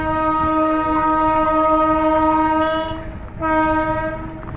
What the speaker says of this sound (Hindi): हॉर्न सुना होगा आपने अभी अभी।